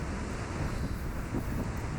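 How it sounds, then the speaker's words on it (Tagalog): Steady wind buffeting the microphone at the Shek O seaside headland in Hong Kong, a continuous low rumbling roar with faint surf-like wash, with no talking. "Mahangin nga lang."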